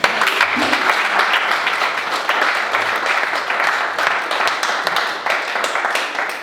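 Loud, sustained applause from an audience at a teaching strategies conference, a dense continuous wash of clapping held steady throughout.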